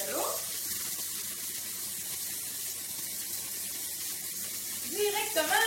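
Steady broadband rush of water flowing from a kitchen tap into a Tupperware pressure cooker, continuous and fairly close, with a brief voice at the start and end.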